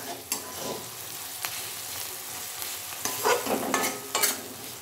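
Onions softening in a frying pan, a low steady sizzle broken by several scraping stirs of a spatula, close and with no voices.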